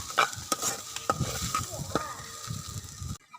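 Pasta with masala is stirred in a frying pan, with a utensil scraping and clinking against the pan over a soft, steady sizzle, heard close up with no talking.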